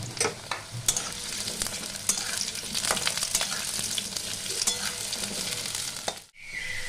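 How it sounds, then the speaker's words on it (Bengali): Potatoes frying in a pan with green chillies while chhana dalna is cooked, giving a steady close sizzle with crackles and stirring scrapes that stops abruptly near the end. "আলুটা বন্ধুরা লাল করে ভাজা হয়ে গেছে"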